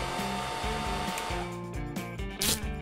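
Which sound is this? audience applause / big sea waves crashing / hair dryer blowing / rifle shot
hair dryer blowing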